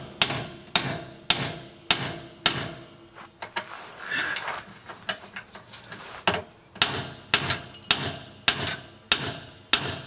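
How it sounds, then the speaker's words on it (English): Sharp, evenly spaced metallic hammer blows strike camper trailer suspension, about a dozen loud close hits with a short pause of scraping and shifting in the middle. "I'm going to try to give it a couple of good whacks."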